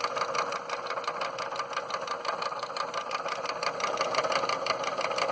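Antique GE-powered rotary electric lawn mower with a quarter-horsepower motor, running with a steady whirring hum and a fast mechanical rattle, even and continuous throughout, fairly quiet and without talk.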